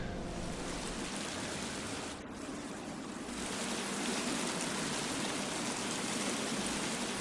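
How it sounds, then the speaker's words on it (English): Water runs continuously in a cave in a steady, even wash with no breaks, filling the space with a soft hiss. "It is the soft trickle of running cave water."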